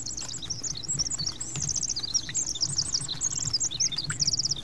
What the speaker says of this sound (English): That bird is loud, right?